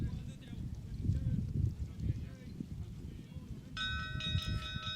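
A bell sounds near the end, a steady ringing tone with bright overtones marking the close of a polo chukker at an open tournament field, following crowd and commentary noise, with someone talking over the ambience throughout.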